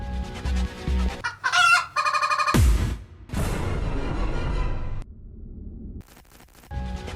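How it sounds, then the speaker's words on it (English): A cartoonish chicken clucks and crows in a horror video game, set among loud, shifting game music and sound effects, with bursts of noise and brief quiet gaps. "It's just a chicken."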